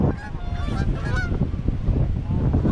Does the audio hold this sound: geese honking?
yes